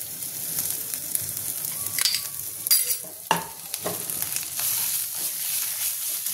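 Ginger and garlic frying in a pan for Bengali mutton kosha, a continuous hiss with a few sharp scrapes and clinks of the stirring spoon, no talking.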